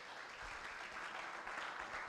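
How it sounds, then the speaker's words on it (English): An audience at a forum on building Ghana's natural gas infrastructure gives a round of applause, heard as faint, distant, continuous clapping. "A round of applause to him."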